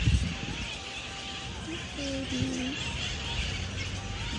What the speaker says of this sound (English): Birds are beautiful here.